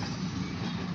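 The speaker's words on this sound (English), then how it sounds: "hooking up to that very short grain hopper or that freight train over there." A very short freight train rolls through a freight yard in Titusville, giving a steady, moderately loud low rumble with faint clanking and no speech.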